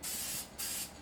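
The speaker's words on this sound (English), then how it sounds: "I'm not just like letting the spray paint land on the planet and continuously let it run. You want to do quick bursts." Two short, sharp hissing bursts from an aerosol spray paint can, applied in quick pulses for a painted planet scene, close and loud with a brief gap between them.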